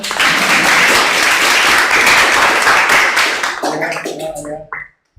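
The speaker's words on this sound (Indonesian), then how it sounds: "terima kasih, tepuk tangan." Fairly loud applause from an audience fills the first few seconds, then thins into scattered claps as a voice begins speaking near the end before a brief silence.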